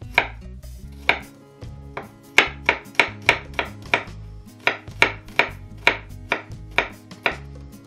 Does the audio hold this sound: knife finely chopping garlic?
yes